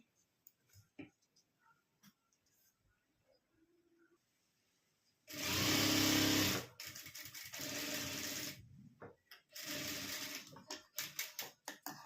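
A sewing machine stitches a zipper onto fabric in several close bursts of rapid whirring separated by pauses, with soft clicks and handling sounds and a voice speaking at times.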